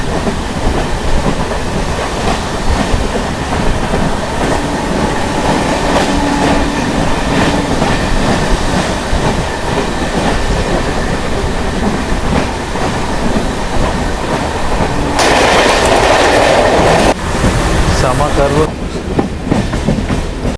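A train on the main line between Trichy and Chennai, recorded from on board: a loud continuous rumble with rhythmic wheel clatter, swelling briefly toward the end.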